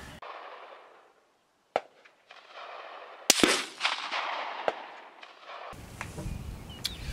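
Gunshots fire at an outdoor shooting range during an ammunition test: a couple of sharp, loud reports with echoing tails amid quiet stretches, followed by wind or handling rumble near the microphone.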